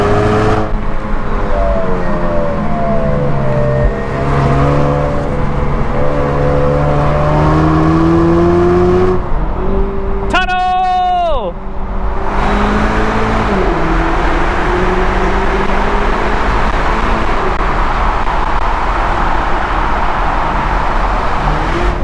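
A 2018 Chevrolet Camaro RS with a turbocharged engine, heard from inside while driving: steady engine drone rising in pitch through the gears, a brief sharp rev with gear change midway, then settling into cruising hum.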